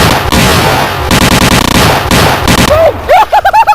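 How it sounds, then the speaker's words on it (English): A raw egg explodes in a microwave: a loud, sharp burst rings out amid steady noise, then scattered high squeaks and crackles follow in short bursts. "Now examine this video clip of the egg exploding."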